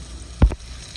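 Coconut milk cooking down into oil in a pan sizzles with a steady soft hiss, broken by one brief louder bump midway.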